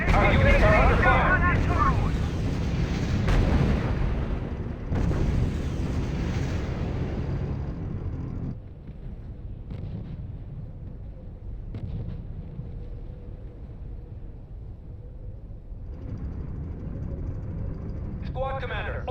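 Explosions and artillery fire boom across a battlefield in the R.U.S.E. strategy game, loud rumbling blasts that fade into steady lower combat noise, with short radio-style voice reports heard over them.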